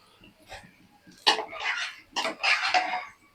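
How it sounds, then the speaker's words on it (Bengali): Fried eggs go into a simmering potato, pointed gourd and eggplant curry in the pan, making a few short, close sizzling and clattering bursts over quiet background. "আমি এখন এগুলো তরকারির মধ্যে দিয়ে দিলাম, ডিমগুলো।"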